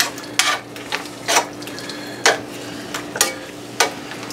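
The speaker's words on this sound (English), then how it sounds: "stir it up real well with the seasonings" Deer meat being stirred in a pan with Worcestershire sauce and seasonings, a series of scraping, sizzling strokes about every half second to second over a soft continuous frying hiss.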